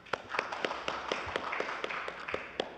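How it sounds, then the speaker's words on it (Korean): A sparse smattering of claps welcoming a presenter at a Kakao policy seminar on COVID-19, a few hands tapping in uneven rhythm at moderate distance rather than full applause. "박수로 환영해 주시기 바랍니다"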